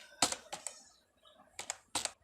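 Keystrokes on a computer keyboard while coding a CSS hero image come in short, close bursts of clicks separated by brief pauses, with no talking.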